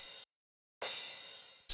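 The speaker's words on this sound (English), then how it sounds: "A crash kind of fill." Crash cymbal fill from a tech house track: a bright, noisy wash that cuts off abruptly, followed after a short silence by another long sustained crash that slowly decays, then a third hit.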